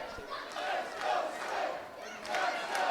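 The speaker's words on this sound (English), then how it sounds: "the crowd is behind the Doctor of" An indie wrestling crowd at a Christmas Chaos show in Butler, New Jersey keeps up loud, continuous cheering and shouting, with rising swells and chants filling the hall throughout.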